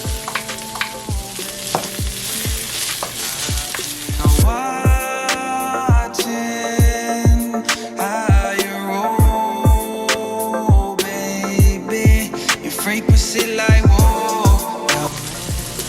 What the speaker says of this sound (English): I got some bok choy. We're gonna cook down.